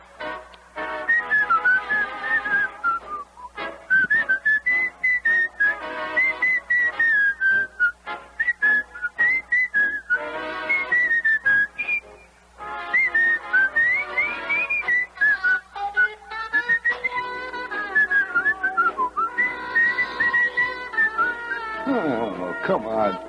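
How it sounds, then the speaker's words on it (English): A person whistles a wavering tune, close and clear, with long sliding melodic phrases broken by brief pauses, while other voices speak intermittently underneath. "Try whistling this."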